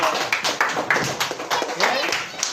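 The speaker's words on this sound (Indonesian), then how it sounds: "tepuk tangan untuk kelompok 2" Pupils in a classroom applaud a group of classmates with quick, overlapping claps in a short uneven burst, while voices talk over the clapping.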